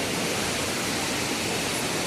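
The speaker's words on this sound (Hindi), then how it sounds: "ये गधेरा बह रहा है इधर।" A small mountain stream in the Kedarnath valley rushes steadily, a dense, even wash of flowing water with no pauses, fairly close and alone.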